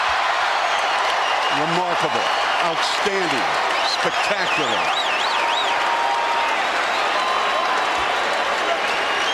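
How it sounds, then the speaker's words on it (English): A basketball arena crowd on its feet cheering and applauding for Kobe Bryant in the Lakers vs Raptors game of January 22, 2006, a loud steady roar under excited commentators' voices. "This crowd is on their feet wanting me to get it."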